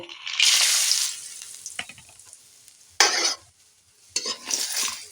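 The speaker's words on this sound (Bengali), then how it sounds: "বড়ি ভেজে নেব" Bori, sun-dried lentil dumplings, frying in oil in a pan while cooking a Bengali greens dish, with loud bursts of sizzling broken by brief quieter pauses and the scrape of stirring.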